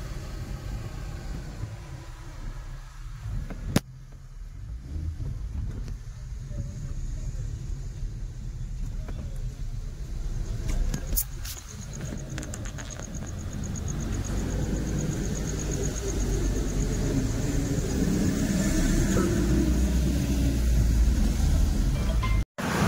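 A car drives at night in heavy rain on the road from Krishnagar to Digha, with a steady low engine and road rumble under a broad wash of rain noise that swells gradually, with a sharp knock early on.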